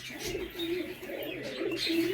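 Pigeons cooing close by, soft low throaty calls repeating in a gentle rhythm.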